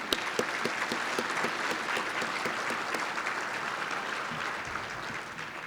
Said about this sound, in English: Please give a round of applause to cohort number 2.